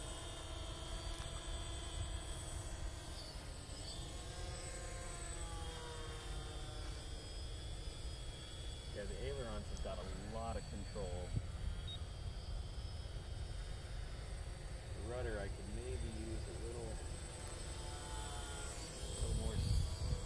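A radio-controlled Barnstormer 250 model airplane flies on its maiden flight, its motor a steady droning whine that rises and falls in pitch as it passes, with wind rumble throughout and someone talking.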